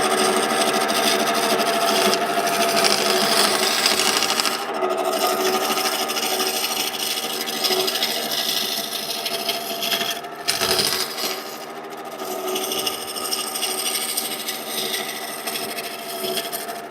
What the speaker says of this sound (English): And I switched to my roughing gouge again.